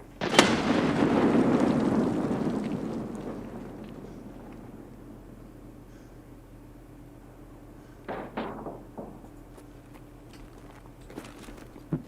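A grenade goes off in a video game as one loud, close blast that rolls into a long rumbling decay. Later come a few quieter bursts of clatter and a sharp crack, with no voices.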